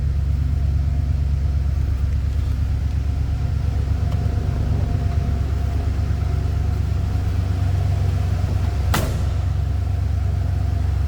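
Restored 1965 Ford F-350 Crew Cab pickup truck idling with dual exhaust, a steady deep low rumble with a brief sharp click near the end, no talking.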